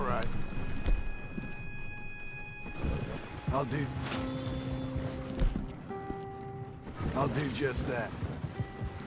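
Horse hooves clip-clop in the video game Red Dead Redemption 2 alongside creaking, ratcheting tack and wagon mechanisms, with someone talking over them much of the time.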